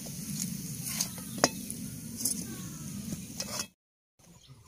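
Golden fried chickpea-flour boondi for motichur laddu are lifted from hot oil, a soft continuous sizzle with a few light scrapes and clinks of the spoon, cutting out near the end.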